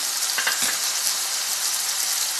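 Kuzhambu powder, chili powder and garam masala sauté in a pan for street-style sundal masala, giving a continuous, close sizzle with a couple of brief stirring scrapes near the start.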